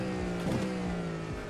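A GT3 race car trail-brakes into a corner in the iRacing simulator, a loud steady engine drone with shifting harmonic tones as the revs fall under braking.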